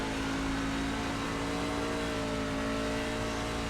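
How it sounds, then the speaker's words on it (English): A race truck engine in the iRacing sim, a C-Fixed truck at Homestead Miami Speedway, drones loud and steady as the truck steps out sideways, a constant roar with a sustained tonal whine and no voices. "The truck really stepped out on us."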